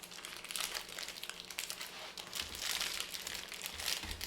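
Parchment paper is folded and crimped into an en papillote package, making soft, continuous crinkling and rustling close by, with denser crumpling bursts toward the end and no talk.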